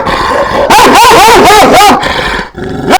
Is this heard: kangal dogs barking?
yes